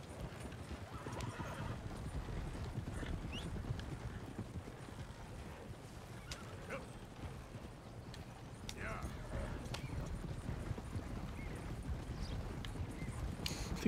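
Galloping horse hooves clip-clop in Red Dead Redemption 2 gameplay, mixed with a whinny and rumbling movement, fairly quiet and steady throughout.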